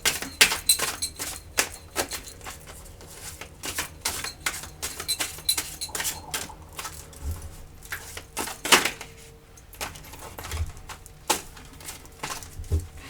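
A tarot card deck being cut and shuffled close up during a daily card reading, giving a steady run of crisp, rapid clicks and riffling snaps with no talking.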